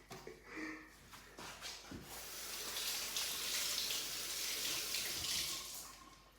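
Tap water running steadily into a sink while a slightly soft tomato is rinsed under it, a close, continuous splashing hiss after a few brief handling sounds, no talking.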